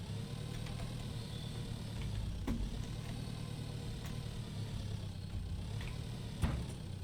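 A tractor engine idles in the farming game Pure Farming 2018, a low steady rumble with faint clatter and a few small knocks, no speech over it.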